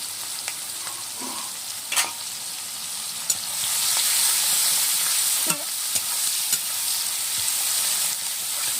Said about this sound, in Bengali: পেঁয়াজ কুচিয়ে রেখেছিলাম, দিয়ে দিচ্ছি। একটু বাদামি কালার হলে পরে মশলা দেবো।